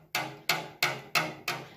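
Rudder pedal brace on a Hummel Ultracruiser, held by a bolt with no nut, flexing and knocking in five evenly spaced sharp metallic knocks, each decaying quickly, close and alone.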